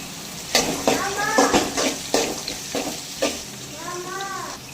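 Onion and garlic sizzle and crackle in a hot pan, with repeated scraping stirs and faint chirping sounds in the background.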